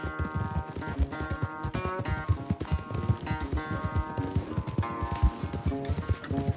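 Horse hooves pound rhythmically at a gallop in the Red Dead Redemption 2 video game, close and steady, with a musical score playing underneath.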